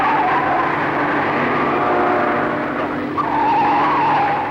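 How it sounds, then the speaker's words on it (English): Race car tyres squeal steadily through a left-hand bend at the 1965 Armstrong 500 at Bathurst, a loud, sustained skidding whine over engine roar that swells again near the end. "Most of the bends are left-handers and you can hear the rubber squeal."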